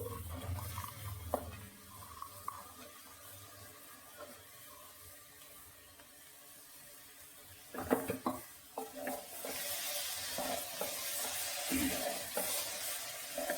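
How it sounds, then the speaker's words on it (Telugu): Cluster beans fry with a little masala in a pan, a quiet steady sizzle broken by bursts of stirring and scraping that grow louder and busier toward the end. "మనం గోరుచిక్కుడు వేసుకుందాము. కొద్దిగా మసాలా ఇట్లా ఫ్రై చేసుకున్న తర్వాత"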